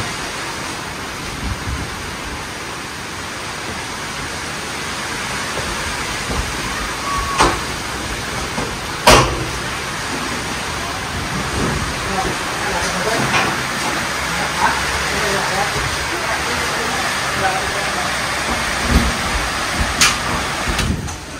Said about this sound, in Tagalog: malakas ang hangin, tsaka rinig na yung pagbagsak ng ulan